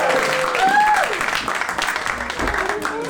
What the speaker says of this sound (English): Please round of applause for Heather Gardner.